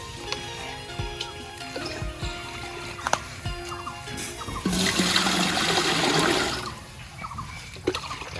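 A few clinks and knocks, then a surge of water rushing and pouring into a saucepan with oil on the stove for a couple of seconds before easing into quieter trickling.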